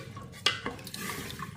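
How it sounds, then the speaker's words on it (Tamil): A spoon stirs black urad dal rice with water in a pot, giving soft, close scraping and a couple of sharper clinks against the metal over a low background hum. "இதை லைட்டாக மிக்ஸ் பண்ணிடுவோம்."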